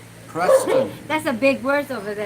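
Dogs bark and yip repeatedly in the background, a few sharp calls mixed in with someone speaking over them during a live trivia session.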